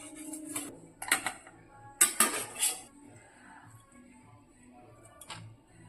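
Boiled boneless chicken is cut into pieces on a board, producing a few sharp knife taps and clinks in brief clusters separated by quiet pauses.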